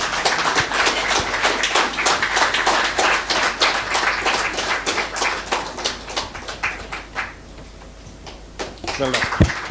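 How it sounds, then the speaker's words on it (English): Dense, continuous clapping from an audience at an FTCCI industry-academia launch event, loud and close, continuing steadily for several seconds before thinning out and fading near the end. "A big round of applause."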